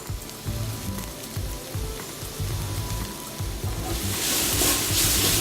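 Onions cooking in a skillet for caramelizing, a dense crackling sizzle that swells louder and brighter near the end, close and continuous with no talking.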